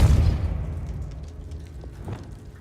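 A Depulso spell is cast in Hogwarts Legacy, a single deep, forceful boom at the start that decays into a rumbling tail, with faint scattered effects trailing off.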